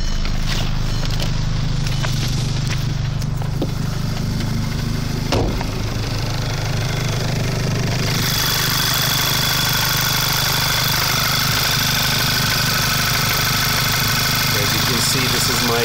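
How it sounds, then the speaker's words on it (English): A car engine fitted with BSH TSI engine mounts and an EWM performance clutch idles steadily, heard from inside the cabin as a continuous low hum and vibration with a brief bump near the middle. "Make you hear the engine."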